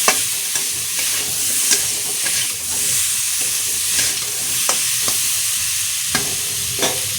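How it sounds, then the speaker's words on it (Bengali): Elephant foot yam sautés in a hot pan with turmeric and salt, a loud, steady sizzle with frequent scraping stirs of the spatula close up and no talking. "একটু কষিয়ে নেব।"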